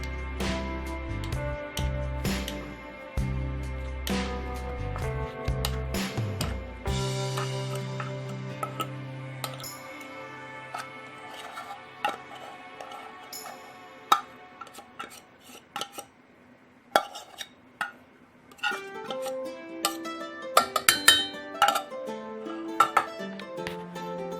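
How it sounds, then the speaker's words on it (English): A fork scrapes drained tuna out of a metal can into a cooking pan: sharp metallic clinks and scrapes, close and irregular, louder at first and then thinning into scattered taps. "using the fork, get all of the tuna from the can into the pan"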